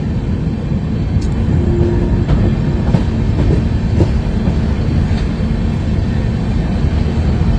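The 12277 Howrah–Puri Shatabdi Superfast Express arrives at Howrah Junction at night, a loud, continuous low rumble of rolling wheels up close with faint clicks over the top.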